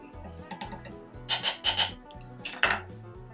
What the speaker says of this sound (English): scraping up all that stuff that's on the bottom of the pan while also incorporating our olive oil and our garlic